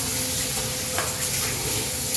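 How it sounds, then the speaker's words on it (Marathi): Paneer tikka cubes sautéing in a pan on low gas and being turned over, a steady soft sizzle running throughout with a faint scrape of the flip near the middle, alone with no voices. "थोडं परतत आलं का पनीर असं पलटून घ्यायचं"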